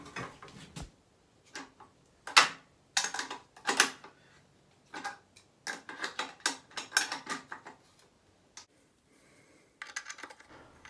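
A nut is tightened on a threaded rod while fixing a wall-hung toilet frame to a wall, heard as close, irregular ratcheting clicks in short bursts with quiet pauses between them.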